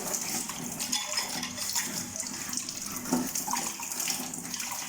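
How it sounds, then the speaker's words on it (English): Taro leaves being washed under a running tap, a steady close gush of water with small splashes and occasional rustling as the leaves are handled. "So we have to first take these leaves, wash it properly, both the side."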